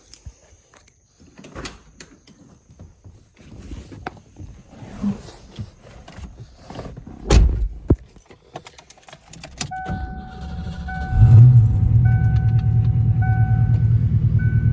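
Clicks and rustling inside a Fox Body Ford Mustang, then a dashboard chime and the engine cranking and catching, settling into a steady idle.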